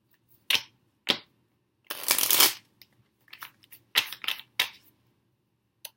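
Tarot cards riffled and shuffled in several quick crisp bursts, with short pauses between, close and fairly quiet.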